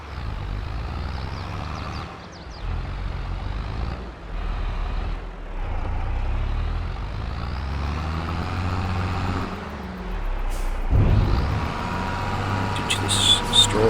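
A heavy truck in Farming Simulator 22 rumbles with a steady low engine drone through most of the stretch, then a sharp hiss like an air brake release and faint high reversing beeps near the end.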